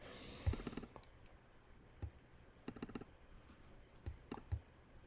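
Computer mouse and keyboard clicks at a desk, scattered light taps and clicks in irregular bursts, faint and close.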